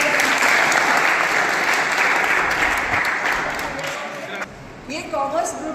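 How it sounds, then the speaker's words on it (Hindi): Students at a school results celebration clap together in a loud, dense burst of applause that gradually thins and fades toward the end, with a few voices rising as it dies away. "तालियां बजाओ एक बार।"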